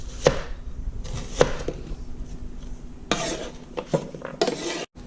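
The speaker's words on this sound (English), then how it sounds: "I'm cutting about a cup of shallots to go into the soup." A knife chops shallots on a cutting board for tom yum soup, giving sharp, close, loud strikes in small irregular clusters with brief pauses between them.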